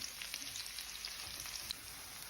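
Sliced onion frying in oil in a pan, a soft continuous sizzle with faint crackles and a few light stirring taps, quiet and without speech.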